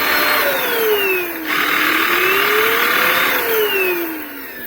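A YISORA N300 cordless stick vacuum cleaner with a rotating brush runs steadily and loudly up close, its motor whine sliding in pitch as the speed setting or load changes, with no talk.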